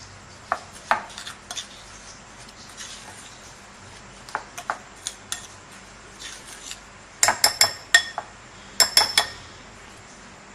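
While icing sugar is mixed into cake batter, a utensil knocks and clinks sharply against the bowl in scattered bursts, with quick clustered taps near the end over a quiet background.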